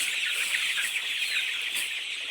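Many chickens cluck steadily in a poultry shed at night, a dense, continuous chorus of overlapping calls at close range with no voices.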